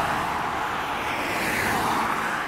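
Busy roadside traffic near Keith, Kentucky (Four Mile) rumbles loud and close, a continuous wash of passing cars with no break and no voices over it.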